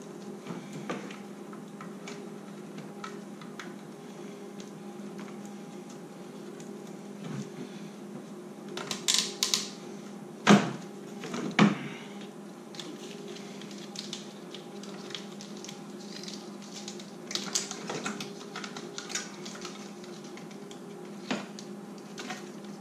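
Plastic zip ties ratcheting tight around the wiring harness of a 6.0 engine: faint, scattered ticking clicks over a steady low hum, with a short cluster of sharper zips near the middle.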